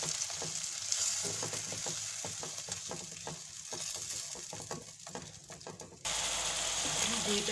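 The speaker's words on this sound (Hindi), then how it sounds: "अब मैं इसमें लहसुन अदरक डालूँगी" Garlic and ginger fry in a hot pan of oil for chicken tikka karahi, a steady close sizzle broken by rhythmic scraping stirs, with a brief louder burst of crackling near the end and faint talk.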